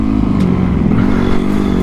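A motocross dirt bike rides off-road close by, its engine a loud, low, continuous throb with slight revving surges and faint clatter.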